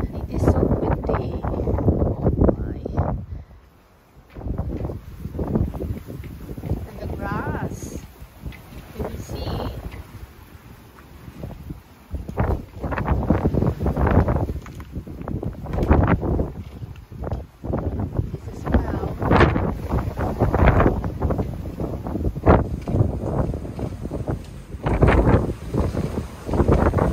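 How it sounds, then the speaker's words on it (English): Strong, gusting wind during Storm Eunice in the UK buffets the microphone in loud, irregular roaring bursts throughout, with brief lulls between gusts. "it is so windy."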